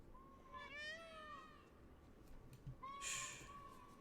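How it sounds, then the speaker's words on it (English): Peacocks in the game Witcher 3 call to each other with drawn-out, cat-like meowing cries, two wavering calls separated by a pause, heard at moderate distance over a faint ambient bed. "No, that's the peacocks."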